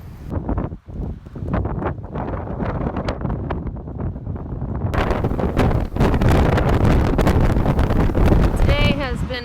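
Strong gusting wind on a Pacific Crest Trail hike buffets the microphone with loud, continuous roaring rumble that builds stronger partway through, with no talk.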